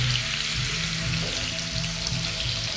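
A salmon fillet fries in a pan with a continuous, even sizzle and crackle close by, with no voices.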